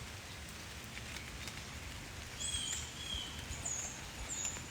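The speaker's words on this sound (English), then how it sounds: "It's kind of raining a little harder this time." Steady rain falls on a beach-side, jungle-like setting as a continuous dense patter, with faint bird chirps high above it partway through.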